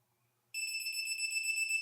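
A steady, high-pitched electronic beep from a torque wrench set to 70 foot-pounds while building an engine starts abruptly after a short silence and holds continuously, clear and close.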